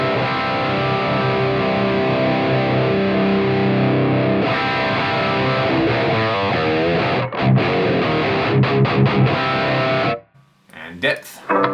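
A distorted electric guitar plays through an amp with the presence control switched off: a sustained, thick chord rings out, then shorter picked notes follow before stopping abruptly near the end.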